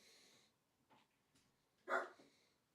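A small dog gives one sharp, fairly quiet bark, preceded by a couple of faint, softer yips in an otherwise quiet room.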